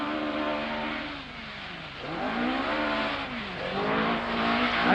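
A David Sutton Ford Escort rally car at a 1981 rallysprint, its engine revving and falling as it swings through corners, loud and close with rising and dipping pitch sweeps, tire noise underneath.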